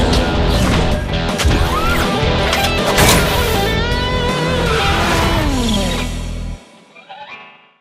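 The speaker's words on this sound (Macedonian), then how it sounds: "Слични краш тестови се споредени и порано." Car crash test with an impact bang amid a dense, loud burst of smashing and crunching metal, followed by a sudden cutoff into quieter trailing noise.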